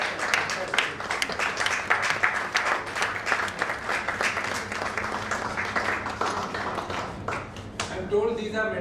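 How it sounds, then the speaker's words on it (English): Sustained applause from an audience at a medical symposium felicitation, steady dense clapping throughout, tapering near the end where a voice begins speaking. "please have a huge round of applause"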